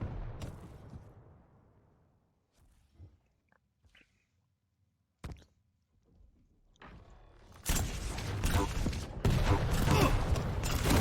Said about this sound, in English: Oh, nice rockets by Steej.